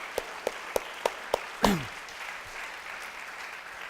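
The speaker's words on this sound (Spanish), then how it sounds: "Démosle un fuerte aplauso." Five evenly spaced hand claps in a slow rhythm at a church service, followed by a brief descending whoop, then quiet room tone.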